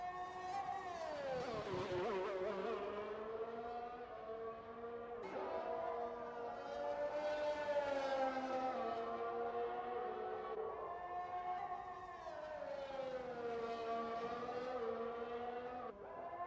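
F1 race car engines in the F1 2021 racing game at the Russia circuit, howling at high pitch and rising and falling through gear changes as the cars pass and accelerate, loud and continuous with no talking.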